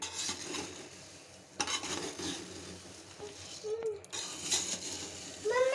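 Poha chivda of fried flattened rice is stirred and tossed in a pan, giving dry rustling and scraping strokes with occasional clinks of the utensil, close and moderately loud.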